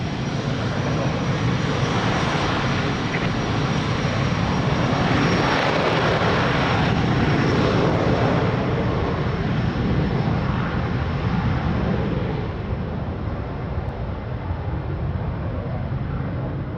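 A Portuguese Air Force Falcon 50 jet takes off at Lisbon Airport. Its engine roar is loud, steady and broadband, and it holds throughout with a slight fade near the end.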